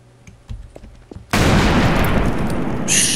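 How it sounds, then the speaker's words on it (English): A grenade blast in Garry's Mod Trouble in Terrorist Town, a sudden loud explosion with a long roaring rumble after a few light clicks and thumps. "You're gonna throw a grenade down"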